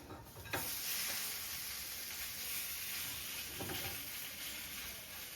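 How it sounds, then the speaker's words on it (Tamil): Oil sizzles steadily in a pan as a sweet potato pancake is turned over, with a soft scrape or thump near the start and a constant close hiss throughout. "இப்போ நான் திருப்பி போட போகிறேன்."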